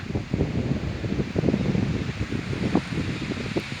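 Wind gusting through rustling leaves outdoors on a cold day, a steady broadband whoosh with dense crackling leaf movement throughout and no voices.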